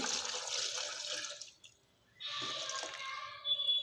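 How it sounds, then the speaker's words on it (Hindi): Milk poured into a glass for a homemade milkshake, a bright liquid splashing stream in two bursts with a short pause between, close and fairly loud with no talk. "मैं इसमें शामिल करूँगी 1 गिलास दूध"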